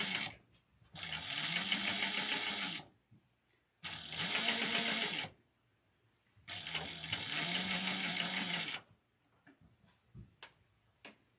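A sewing machine back stitches handbag fabric in three separate bursts of fast, even mechanical stitching, each lasting a second or two, with quiet pauses and light clicks in between.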